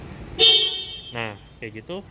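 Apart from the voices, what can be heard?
Mitsubishi Pajero Sport car horn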